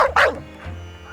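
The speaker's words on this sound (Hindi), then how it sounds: "मेजबान से पहले कुत्ता भौंक कर आपका वहां स्वागत करता है।" A dog gives a loud bark up close, followed by quieter whimpering and a fainter second yelp.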